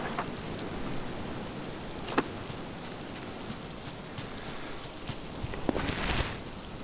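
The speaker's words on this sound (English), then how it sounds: "it is raining full bore now" Steady heavy rainfall in the video game Miasmata hisses continuously, with a few sharp crackles and a brief louder burst near the end; no talking.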